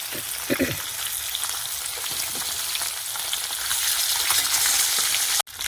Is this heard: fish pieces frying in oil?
yes